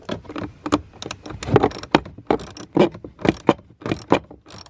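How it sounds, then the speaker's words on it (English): A powered wrench set to unscrew backs out a screw from a panel on a Tesla Model 3 during evaporator cleaning. It makes a close, uneven series of sharp ratcheting clicks and rattles in short bursts. "Let me connect it to a adapter piece here and also to a wrench and set it to unscrew."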